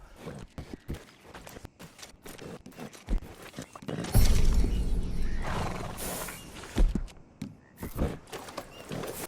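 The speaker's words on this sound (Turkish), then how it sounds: "Karaborsacı'ya yaklaşınca bir ıslık çalıyoruz ve hop atımız koşarak bize geliyor." In Red Dead Redemption 2, a horse whinnies loudly and its hooves clip-clop in an uneven rhythm, with a few sharp knocks and a second burst of neighing near the middle.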